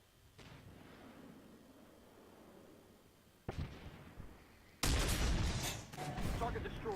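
M109 self-propelled artillery firing in the Armored Warfare video game: a few sharp booming blasts, the last one loudest and followed by a rumbling tail, over quiet ambient game sound.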